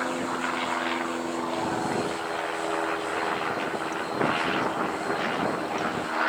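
A small FPV quadcopter drone flies on a windy day, its propellers giving a steady high buzzing whine with shifting pitch, moderately distant and fairly quiet.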